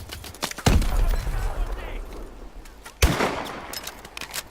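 Gunfire in the Call of Duty: Advanced Warfare campaign, with two sharp loud shots about two seconds apart, each followed by a rumbling tail, and scattered smaller cracks in between.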